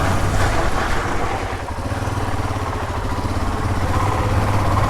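A Himalayan motorcycle with upgraded suspension runs on urban trails, its engine a continuous close, loud thrum with a slight dip partway through.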